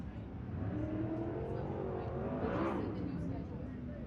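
A direct-drive sprint car at a USCS race at Riverside fires up after a push start from a bigger vehicle, its engine droning and rising in pitch, heard from a distance with a commentator talking over it.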